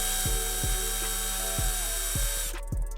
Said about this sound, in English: And so now we're gonna drill into it